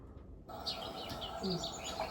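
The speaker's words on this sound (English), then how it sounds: "so here's a garden warbler" A garden warbler sings in quick, varied chirps and trills over a noisy, muffled background, the song continuing steadily for a couple of seconds.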